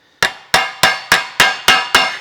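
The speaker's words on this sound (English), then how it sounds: "just with the hammer on the bench" A hammer strikes a section of sheet metal for a 1920s convertible top on a workbench, seven sharp ringing blows at an even, steady pace, close and loud with a short metallic decay after each.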